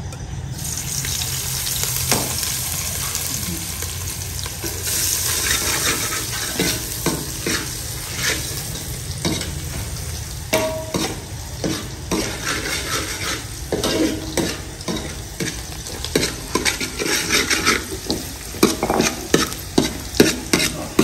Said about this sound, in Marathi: मसाल्यामध्ये चटणी मिक्स करून घेतली